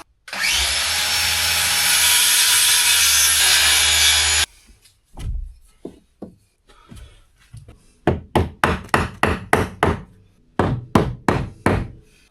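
A saw cuts wood to shorten a piece: a few seconds of loud continuous power sawing, then scattered knocks followed by a quick run of close hand-saw strokes in a steady rhythm.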